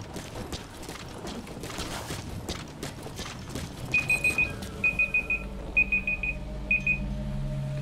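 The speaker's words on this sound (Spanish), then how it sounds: "La alarma del móvil" A mobile phone alarm goes off during a PC session of Metal Gear Solid V: The Phantom Pain, sounding as four short bursts of repeated high electronic beeps over busy game sound.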